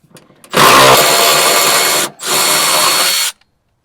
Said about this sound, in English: Let's electric ratchet.